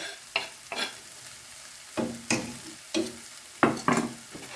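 Meat frying in a hot pan for a quick breakfast, with loud sizzling and several sharp scrapes and clatters as it is stirred at irregular intervals, close and clear with no talking.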